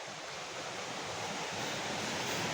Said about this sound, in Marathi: नदीवर बघा पाणी बघा आवाज येत असेल मोठा आवाज